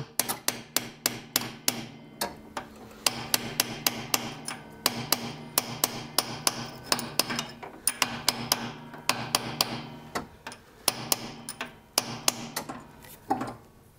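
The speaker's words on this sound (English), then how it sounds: "I usually go back with a pin punch, tap a few sections that are a bit higher" Sharp metallic taps of a pin punch seating a crankshaft oil seal into a snowblower engine, many quick strikes in uneven bursts with short pauses, close and clear with no talking.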